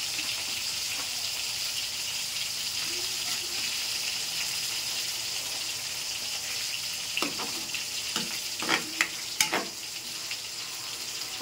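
Chili garlic oil sizzling steadily in a pan, a constant bright frying hiss with a few louder pops and crackles near the end; no talking.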